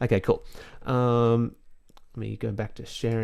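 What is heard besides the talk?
No everyday noises stand out.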